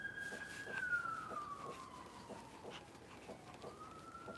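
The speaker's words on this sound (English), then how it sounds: "there's sirens going by the house" Emergency sirens pass by a house, a faint wailing tone sliding slowly downward in pitch, heard distant and low under quiet background noise.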